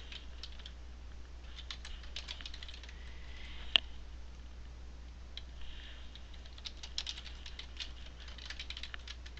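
Quick, light typing on a computer keyboard entering patient details into medical office software: soft, irregular key clicks in short bursts, close and fairly quiet over a low steady hum.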